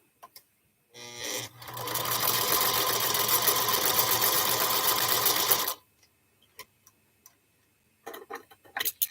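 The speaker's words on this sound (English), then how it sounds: "should sew to this one. Start my needle down." A sewing machine stitches the pieces of a table runner in one steady, close run of nearly five seconds, with a few soft handling clicks before and after.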